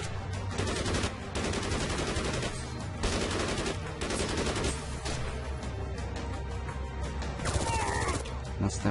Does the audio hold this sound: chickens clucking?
no